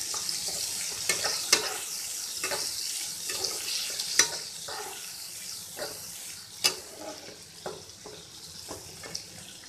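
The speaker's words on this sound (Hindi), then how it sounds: "प्याज को हल्का सा सॉटे कर ले रहे हैं।" Onions lightly sauté in a pan for a stuffed parwal dish, giving off a steady, soft sizzle. Occasional sharp scrapes and clinks of a stirring utensil cut through it, close and moderately loud.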